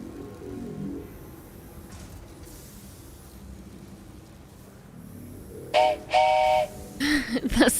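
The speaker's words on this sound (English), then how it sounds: "The slug train. Choo choo." In the factory game Satisfactory, a slug train sounds its whistle near the end, several short tonal toots over faint rumbling rail noise, clear and moderately loud.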